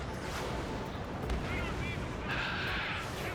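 Anti-aircraft guns in the combat flight game Ace Combat 7 fire over a roaring, rumbling battlefield, with distant booms and dense noise, while radio voices chatter throughout.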